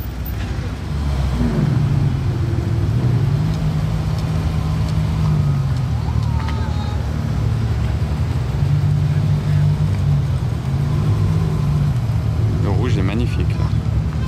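Several Ferrari sports cars, including a Daytona SP3 and 812 Competizione, roll past in a convoy at a rally near Le Mans, their engines holding a steady loud drone throughout while people talk over it.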